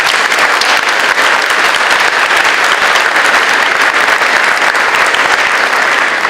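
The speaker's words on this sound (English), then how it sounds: "So a big round of applause to each and every one of them." An audience claps at a cancer care event, a loud, dense wash of many hands that stays steady from start to finish with no voices above it.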